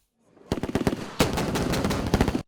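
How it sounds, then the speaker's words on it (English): Live ammunition bursts from a military training exercise in Kachia, with armored tanks giving fire support: loud, close automatic gunfire in two rapid strings of sharp shots after a brief quiet start, and no voices. "Firing of live ammunition in real-life simulation to counter obstacle with armored tanks providing fire support"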